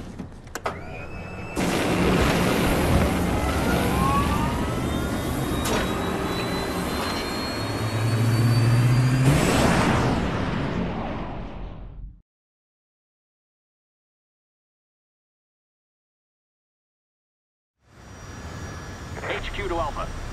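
Airplane engine firing up in the Resident Evil 6 video game, a loud rising jet whine and roar sustained for about ten seconds, cutting to silence before game sound returns, with voices speaking over it.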